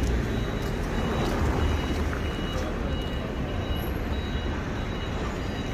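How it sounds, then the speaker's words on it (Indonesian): A bus idles and rolls past on a busy street near hotels in Madinah, its steady broadband engine and traffic rumble filling the scene loudly and continuously, with a faint high tone and a brief beep near the end. "Ini ya, ada bis."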